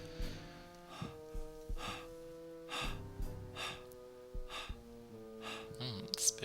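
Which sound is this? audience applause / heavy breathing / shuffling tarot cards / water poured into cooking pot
heavy breathing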